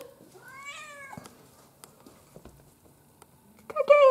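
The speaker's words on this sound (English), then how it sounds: "I heard her meowing and she's just in here by herself meowing away." A pet cat in a dark garage lets out a drawn-out, wavering meow alone, followed by quiet shuffling and small taps, then a second louder, closer meow at the end.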